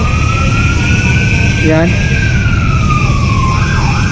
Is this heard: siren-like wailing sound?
yes